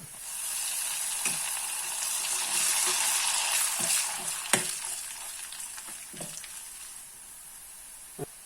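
Onions sizzle steadily in a hot pan for onion chutney, a bright frying hiss broken by occasional spoon scrapes and taps, close by, the sizzle easing slightly toward the end.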